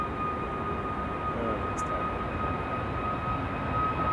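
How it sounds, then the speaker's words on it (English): An airliner touches down at Manchester Airport, heard as a steady, fairly faint, distant engine roar with a thin whine held throughout. "Watch these wings relax as it touches down."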